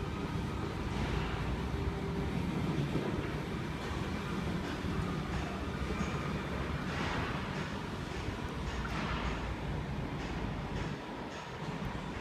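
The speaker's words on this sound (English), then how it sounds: "T77 and T62 are now departing platform number 4." Sydney Tangara trains leave a station platform with a steady, loud rumble of wheels and motors that rises and falls slightly over several seconds, with no talk.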